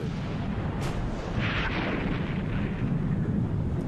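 Artillery shell explosions from a naval bombardment of the Dardanelles in 1915, a low rumbling blast with a burst of debris-like noise, heard alone at moderate loudness.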